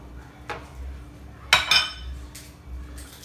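A lid is set over a pot of rinsed pepper soup ingredients in a home kitchen: a couple of close metallic clinks and a brief rattle, with quiet pauses between.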